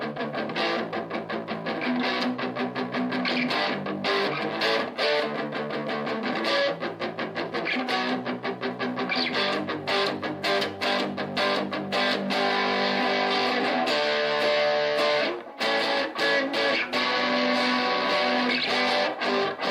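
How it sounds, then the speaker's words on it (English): Distorted electric guitar from a Donner 39-inch beginner kit, played through the amp's distortion channel: dense, sustained overdriven chords and riffs, loud and continuous throughout with no talk. "It's got tone, it's got gain, it's got a distortion channel as well"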